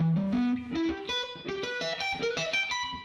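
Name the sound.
electric guitar sweep picked arpeggio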